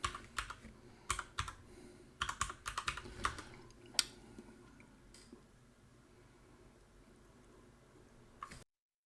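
Login credentials typed on a computer keyboard during a Cisco ESA appliance setup, a quick run of close, crisp key clicks in short bursts, then a single later tap, faint and with no talk.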